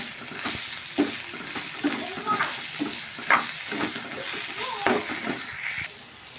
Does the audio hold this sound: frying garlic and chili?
yes